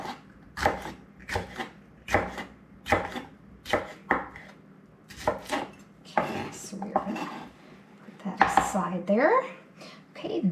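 A knife chops jalapeno peppers, seeds and all, on a cutting board while making fire cider: a steady series of sharp, close thunks, a few separate cuts and then quicker runs, with some board and utensil clatter.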